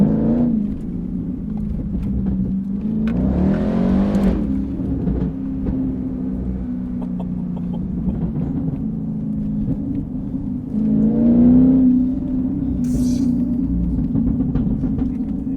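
A tuned 670bhp Jaguar XFR-S engine rumbles deeply up close and rises in a couple of throaty revs over a steady idle, with no voices.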